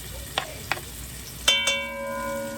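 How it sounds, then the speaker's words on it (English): Diced onions, garlic and green peppers sizzle in a hot pan for homemade Trini-style fried rice, a soft steady frying hiss with a few clinks of utensil against the pan, close and alone without talk. "And we add our onions. We have a little garlic in here, some green peppers. We let that go."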